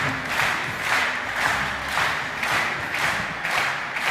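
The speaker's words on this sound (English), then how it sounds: "like you're clapping in the rhythm, that's amazing" Large competition-event crowd clapping in a steady rhythm with cheering mixed in, a dense, loud, pulsing wash of hands beating roughly twice a second throughout.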